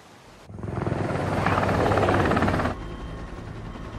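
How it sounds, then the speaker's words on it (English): A military helicopter in the video game Predator: Hunting Grounds roars in loudly with heavy rotor chop, holds strong for about two seconds, then cuts to a lower steady rumble. "We're allocating extra choppers to lift the tanker out of the train yard."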